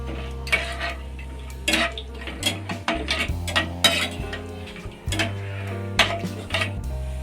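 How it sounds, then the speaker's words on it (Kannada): Cashews frying in hot ghee in a pan while being stirred, with repeated metal utensil clinks and scrapes against the pan over a low continuous background, close and moderately loud, no talking. "ಗೋಡಂಬಿನ ಹಾಕ್ಕೊಂಡು ಸ್ವಲ್ಪ ಫ್ರೈ ಮಾಡಿ ಎತ್ಕೊಳ್ಳೋಣ."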